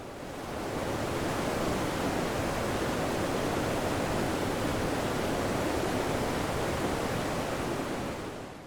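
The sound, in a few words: Muradiye Waterfall rushing water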